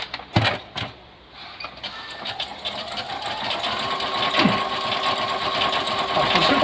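An electronic sewing machine runs steadily at close range while stitching decorative stitches, with a continuous mechanical whir building after a few sharp clicks and knocks at the start.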